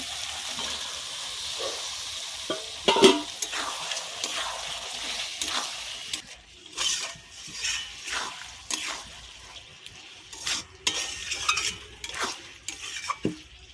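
Beef pieces cooking in hot oil in a pot for a beef and potato curry: a soft, steady sizzle under repeated stirring and scraping strokes, with occasional spoon clanks against the pot.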